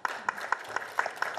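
Audience applause at a panel forum, a quick rhythmic burst of clapping with sharp, regularly spaced peaks, fairly close and alone without speech.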